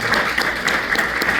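Worship congregation clapping in praise, a dense and loud continuous patter of many hands that fills the brief moment.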